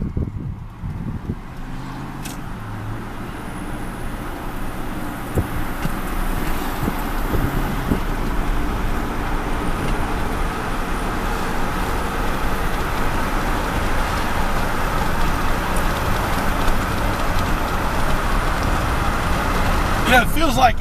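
A Chevrolet Silverado 1500 pickup drives a lap, its engine and road rumble building into a steady low drone from inside the cab, with wind noise on the microphone and someone talking over it.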